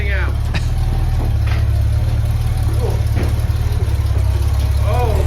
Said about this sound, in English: Maybe you can hear it. This is our 2023 Classic Restoration Challenge car.